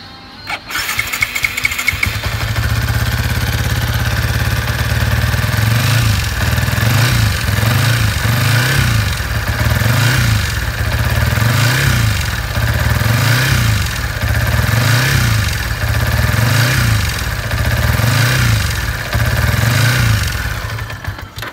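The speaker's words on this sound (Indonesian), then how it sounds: "Jadi itulah bunyinya kalau tepek terlalu longgar." A motorcycle engine with overly loose valve tappets fires up, then settles into a loud, lumpy idle with a steady, regular ticking pulse for about twenty seconds.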